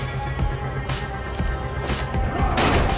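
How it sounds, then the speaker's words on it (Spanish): Rapid bursts of firecrackers crackle and bang in the video game Dying Light over a busy, dense game soundscape, with sharp cracks clustering near the end. "Petardos."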